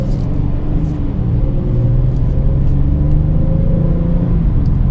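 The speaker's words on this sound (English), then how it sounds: "It almost sounds kind of like a truck's V6, to be honest." A Hyundai Palisade Calligraphy SUV's naturally aspirated V6 engine accelerates from inside the cabin, a steady low rumble that rises smoothly in pitch, with no talking over it.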